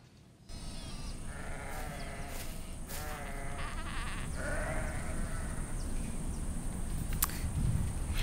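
Sheep bleat several times close by, a few clear calls over a steady hiss of outdoor background noise, with no talking.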